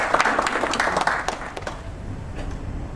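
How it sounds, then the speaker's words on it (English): A crowd applauds the chairman of the South Korean firm 3ENTech at a formal event, with dense clapping at the start that thins and fades toward the end. "round of applause."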